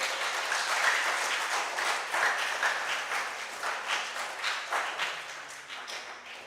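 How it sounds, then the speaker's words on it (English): A room of spectators at a national junior science and maths quiz championship claps together, a sustained wash of hand claps that swells in uneven waves and slowly thins out. "Okay, so then can we clap for all of them?"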